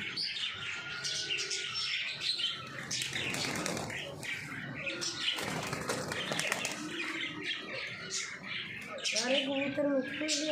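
Pigeons coo and chirp close by amid a flurry of flapping wings, with busy rustling and calls throughout.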